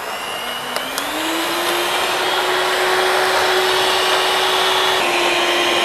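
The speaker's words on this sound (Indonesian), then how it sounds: "Ini udah beberapa menit tadi kita blender, kita mixer ya, kita mixing ya" An electric mixer beats milk cupcake batter at high speed, a loud steady motor whine that climbs in pitch as it speeds up early on, then holds even with no voices.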